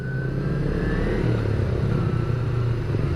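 A Kawasaki W175 motorcycle rides through the centre of Payakumbuh town, its engine droning steadily close up and loud, with a rising rev partway through and constant road and wind rush.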